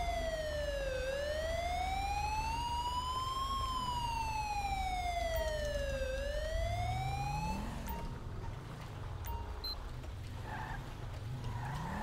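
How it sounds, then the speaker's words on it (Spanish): Ambulance siren in GTA V with the LSPDFR mod, a loud wailing tone sweeping slowly up and down as the vehicle arrives, then breaking into rougher skidding and engine noise near the end. "Vale, aquí viene la ambulancia"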